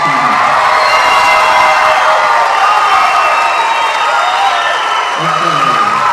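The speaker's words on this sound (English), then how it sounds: "Let's give them another round of applause for their achievement." A large crowd at the University of Hawaii West Oahu spring 2011 commencement applauds the graduating class, loud sustained clapping mixed with cheers and whoops, continuous throughout with a faint tonal background.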